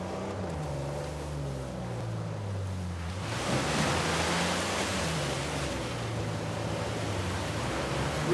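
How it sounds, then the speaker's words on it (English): A waterfall in the Uncharted 4 video game roars as a steady broadband rush, swelling louder partway through, under a low droning musical score with no talk. "A secret cave behind a waterfall."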